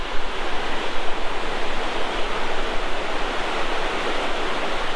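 A rushing stream swollen with meltwater roars as a loud, steady broadband wash of water that continues unbroken throughout, with no voices.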